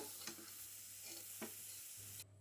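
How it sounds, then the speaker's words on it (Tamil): Soya chunks and potato sauté in oil, a faint steady sizzle with occasional spoon stirs and scrapes in the pan, close and quiet, no voices. "இப்போ இந்த எண்ணெயிலேயே நல்லா வந்து வணக்கி விட்டுடலாங்க"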